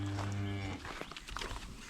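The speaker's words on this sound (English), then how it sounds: "Right, cows." Cattle moo once, loud and close in a farm shed with clean bedding, the low drawn-out call filling the first part before fading into shuffling and rustling barn noise.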